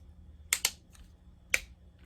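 A camera tripod snaps into place with crisp plastic clicks: a quick double click followed a second later by a single sharp one, close and distinct against a quiet background.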